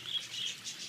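Budgies at a zoo chirping in a soft, continuous twitter of thin, high calls, moderately near and steady through the moment, with no talk over it.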